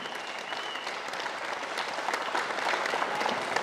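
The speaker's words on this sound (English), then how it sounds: "Can we have another round of applause for everyone being brave to come and speak?" A room full of people at a local protest against wind farms in Bunbury, Western Australia claps steadily, a dense, sustained round of applause that grows slightly fuller toward the end.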